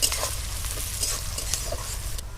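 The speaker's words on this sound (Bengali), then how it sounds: "বাকি তেলটি এর মধ্যে অ্যাড করে দিলাম পেঁয়াজটি তাড়াতাড়ি ভাজার জন্য" Chopped onion frying in a pan of oil with extra oil and a pinch of salt added, giving a steady close sizzling hiss with faint crackles throughout and no talk.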